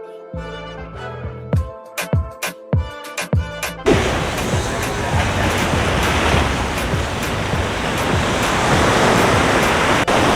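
Ocean waves at Las Animas Beach near Puerto Vallarta wash in as a steady, broad roar of surf, following several seconds of sharp rhythmic knocks and tones at the start.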